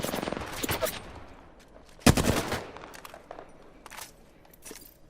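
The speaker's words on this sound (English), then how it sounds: "Yeah, I'm getting shots off on them." Gunfire in Apex Legends comes in close bursts, a quick rattling volley, one sharp loud shot just after two seconds and a few lighter shots trailing off afterward.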